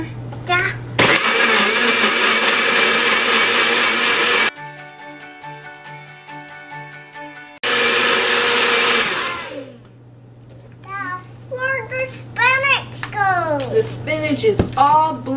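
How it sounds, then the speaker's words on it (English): A kitchen blender whirs loudly through a peanut butter, chocolate and spinach smoothie in two long bursts separated by a pause, with a child chattering in between and afterward. "You want to blend it until you can see no more spinach chunks."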